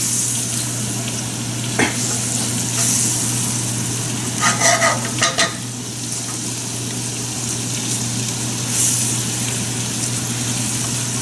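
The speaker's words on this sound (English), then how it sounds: "This will deglaze the pan, take out all the goodness from all of the fish." White wine deglazes the pan in which salmon was fried. It gives a steady, loud bubbling sizzle with a constant hum underneath and a few brief scraping bursts from stirring midway. There is no talk.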